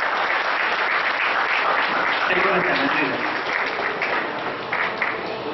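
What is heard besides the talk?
audience applause for a speaker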